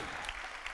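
Conference audience applauding after a speaker at a technology conference, a steady wash of clapping heard briefly and fairly evenly throughout.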